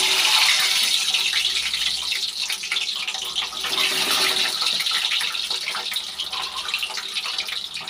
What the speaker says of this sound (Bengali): তো ডিমটা আগে ভেজে নিই